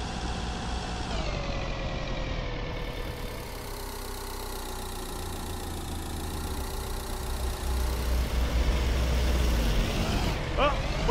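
A MAN truck engine in Road Maintenance Simulator drones steadily at idle and low revs, close and continuous, its pitch shifting slightly as it rises in throttle toward the end, with a brief clatter near the close.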